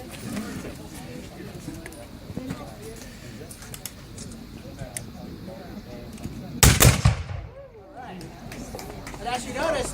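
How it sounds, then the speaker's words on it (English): Percussion and flintlock muskets fire at a battle reenactment outdoors; a single loud sharp report cracks out mid-clip amid background chatter and crowd noise, with voices heard before and after. "the percussion will always fire the weapon where the flintlock just gets so dirty"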